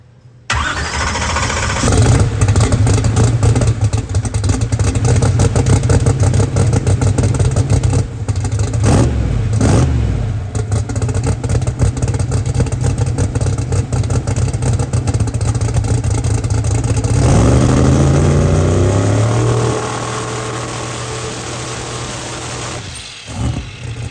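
A car with a bull horn exhaust starts up and holds a loud, steady two-step rev limiter for about twenty seconds, then drops back toward idle.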